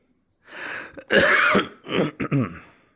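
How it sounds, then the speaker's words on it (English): A few harsh, throaty coughs close to the microphone, a short one followed by a longer burst and then two or three quick hacks, during a VRChat stream. "And once again, I'm coughing right in the goddamn microphone."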